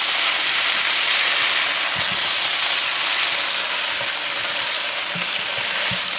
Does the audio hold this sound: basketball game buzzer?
no